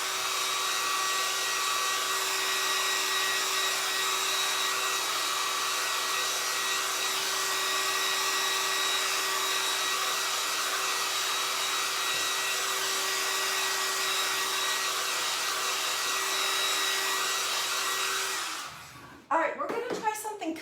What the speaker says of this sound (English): I'm going to get my little embossing gun and just hit it for just a second